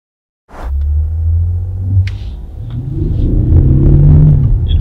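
A Volkswagen Touareg V6 TDI SUV with 4Motion drive starts up and accelerates, a deep engine rumble swelling and climbing in pitch, heard close from inside with a couple of faint clicks along the way.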